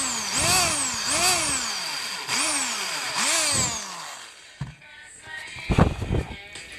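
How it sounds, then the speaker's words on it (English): Power drill boring holes into wood for a production-style woodworking project, with motor whine rising and falling over four passes, followed by clunks and handling knocks. "You may have noticed that the drill bit's moving a little bit as I go in deeper."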